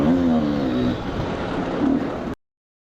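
Motocross bikes racing at the Route 62 MX track, a steady, loud engine drone with rising and falling pitch that holds for about two seconds and then cuts out abruptly.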